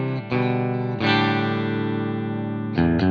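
Electric guitar on a clean tone through an Eventide H90 and Tonex amp modelling, with a few sustained chords ringing out one after another, close and clear without any talking.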